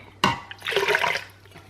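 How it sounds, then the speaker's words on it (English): Water poured into an emptied can of tomatoes to rinse out the leftover sauce while cooking a vegan black bean lentil chili, a short splashing pour that starts with a sharp burst and fades after about a second, with no talking. "I'm going to put another cup of water in here to clean this out"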